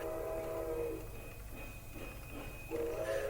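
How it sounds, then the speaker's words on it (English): A train effect plays at low level as the train slows toward a station stop, with rolling rail noise and whistle-like tones that fade and return, and no talk over it. "The train slows as it gets to Arkham and then comes to a stop"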